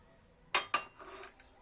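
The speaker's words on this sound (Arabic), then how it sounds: "كناخذوا البيض ديالنا كنخلطوه وكنزيدوا السكر سنيده" A utensil clinks sharply twice against a bowl as eggs and sugar are mixed, followed by softer scraping and a faint final tap, close and quiet.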